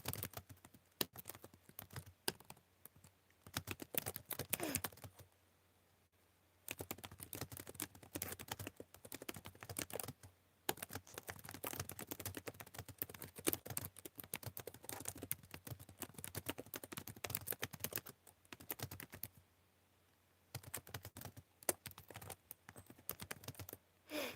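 Long stretches of rapid, hard-hitting keystrokes on a computer keyboard rattle close to the mic, broken by a few short quiet pauses, with no voices.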